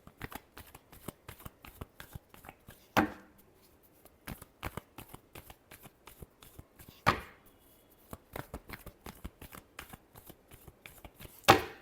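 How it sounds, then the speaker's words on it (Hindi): A deck of tarot cards is shuffled by hand in quick riffling bursts, close and crisp, with a few sharper slaps as the cards are squared between rounds and no talking. "last shuffle"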